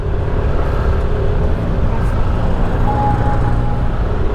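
Busy Sunday road traffic streaming past, a continuous rumble of cars and heavier vehicles with engine drone and tyre noise, fairly close and steady, with a faint tonal whine rising partway through.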